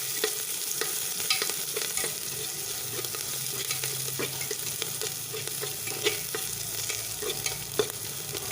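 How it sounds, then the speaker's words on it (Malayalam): Onions and green chillies being stirred in hot oil for an eggplant dish, a steady sizzle broken by frequent scraping spoon strokes against the pan, close and even throughout with no talking. "എന്നിട്ട് ഇതൊന്ന് ഇളക്കി കൊടുക്കണം. ഉള്ളിയൊക്കെ മൂത്ത് വന്നിട്ടുണ്ട്."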